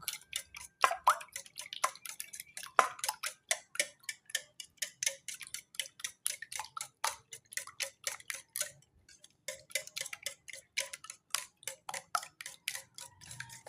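Whole eggs for a leche flan are beaten in a bowl, a steady rapid tapping of utensil against the bowl in an even rhythm, close and fairly loud, with one brief pause partway through and no talking.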